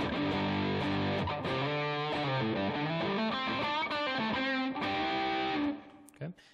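An electric guitar played through a Rat distortion pedal rings out in heavy, full-range distorted chords and sliding notes, loud and sustained for several seconds before cutting off, with no voices over it.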